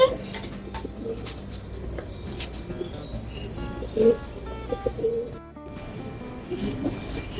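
Crested tippler pigeons cooing at a pigeon fancier's loft, repeated soft coos mixed with chirps and other bird calls, fairly close, with some background voices and a brief clatter.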